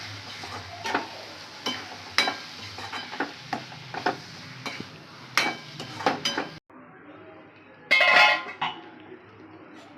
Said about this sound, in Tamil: நல்லா ஸ்டவ் வேகமாக வச்சுட்டு நல்லா கிளறிடலாம்.